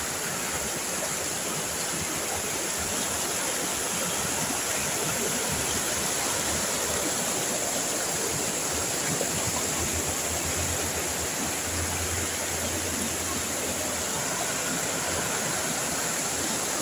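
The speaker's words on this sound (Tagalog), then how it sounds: "Ingay yung maragas ang tubig guys." A fast river rushes steadily, a dense continuous roar of churning water with no pauses, close by and loud.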